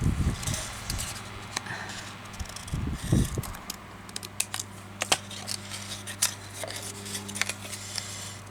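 Scissors snip through paper or lace for a handmade vintage-style journal, with several crisp close cuts scattered among soft rustling and handling noises.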